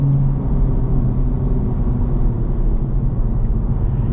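Steady engine rumble from a 2024 Acura Integra Type S or 2023 Honda Civic Type R on the road, heard from inside the car as a loud, continuous low drone with no talking.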